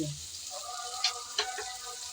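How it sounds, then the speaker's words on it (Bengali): Teasel gourd pieces fry in a little oil in a pan with a soft, fairly faint sizzle, with two brief scraping stirs in the middle. "নেড়ে চেড়ে কিছুক্ষণ ভেজে নিয়েছি"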